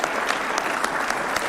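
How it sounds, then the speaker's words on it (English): A large audience at a Kenyan public event applauds His Excellency in a dense, steady round of clapping that fills the whole moment. "Another round of applause for His Excellency."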